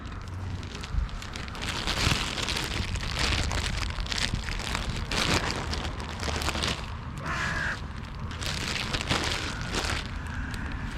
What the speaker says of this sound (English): Oh, these crows are so lovely.